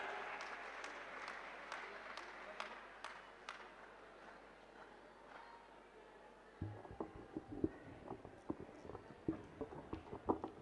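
Applause from the audience at an all-India Hindi poetry gathering, faint and distant at first, then a burst of sharper, closer clapping in the final seconds.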